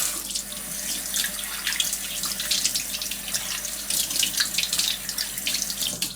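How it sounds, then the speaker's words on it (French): Kitchen tap water running steadily over juice extractor parts being rinsed in a sink, a continuous loud splashing hiss with slight shifts as the pieces move under the stream. "On rince."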